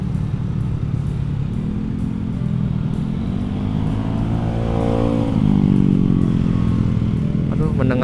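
A Yamaha Mio 130cc scooter engine roars with a steady, loud rumble that climbs in pitch as it revs, while people talk over it.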